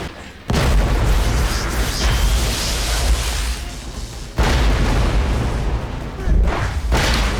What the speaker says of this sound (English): The explosions are way louder than normal.